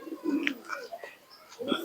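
Pigeons kept by a longtime keeper coo in a few soft, low throaty calls close by, with a brief higher chirp mixed in.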